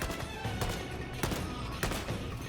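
A video-game autogun fires in volley mode in Warhammer 40,000, producing a dense, loud, steady stream of rapid shots with a few heavier bursts standing out.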